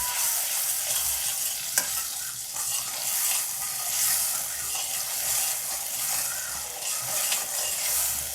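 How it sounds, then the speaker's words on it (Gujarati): Masala being stirred and fried in a pan for Kathiyawadi gathiya shaak over a full flame, giving a steady close sizzle with scraping stir sounds and occasional clinks, no talk. "આ રીતે હલાવશો એટલે બળે નહીં મસાલો"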